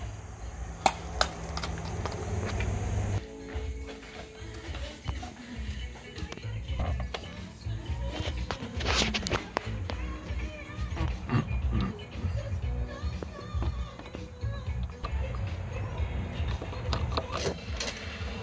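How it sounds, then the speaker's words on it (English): A new throttle body being bolted onto the intake manifold of a Land Rover Discovery 2: sharp metallic clinks and scattered tool clicks ring out over a steady, noisy workshop background. "So we're bolting the new throttle body back on now."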